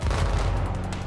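A single heavy sniper rifle report in the Battlefield 4 video game, a loud close boom with a short rumbling tail, heard alone.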